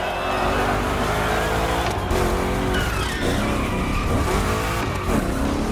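Two Chevrolet big-block cars racing through a rough gymkhana course, engines roaring continuously with tires skidding and squealing through the turns, loud and steady throughout.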